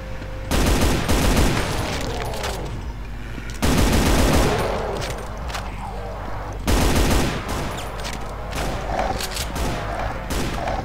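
Rapid gunfire from the Brutal Doom game in the FreeDoom E4M4 Hydroponic Facility level, loud bursts of repeated shots in three heavy volleys with booming impacts between them.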